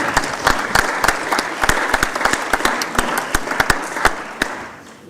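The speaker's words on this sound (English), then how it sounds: "Can we have a big round of applause for everyone?" A conference audience at an annual general meeting gives a round of applause, dense clapping with distinct sharp individual claps standing out, tapering off toward the end.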